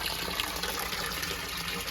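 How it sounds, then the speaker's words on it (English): A pump runs at a koi pond to circulate the water, producing a steady close rushing and gurgling of moving water that stays even throughout. "Sorry about the noise, but I've got that running to circulate the water."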